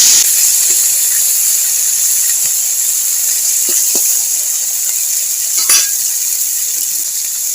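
Fish frying in hot oil in a wok over a lit stove, a loud continuous bright sizzle with occasional soft pops and a brief clink of utensils, close and steady throughout.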